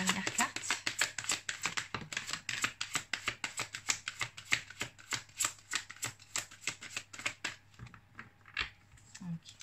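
Tarot-style cards riffled and drawn during a card reading, a dense run of quick crisp flutters and slaps close by, thinning into separate snaps near the end, with no talk.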